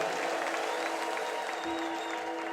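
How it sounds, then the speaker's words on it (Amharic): Church congregation applauding and ululating in praise during a worship service, a steady wash of clapping with thin high trilling tones threaded through it, held at moderate level without a break. "እልልታ ጭብጨባችሁ ለጌታ ይግባ።"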